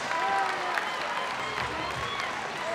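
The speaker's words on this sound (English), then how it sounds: "Give these men a round of applause." Crowd at a combat sports fight night clapping and cheering after a three-round bout, a steady wash of applause with voices calling out over it.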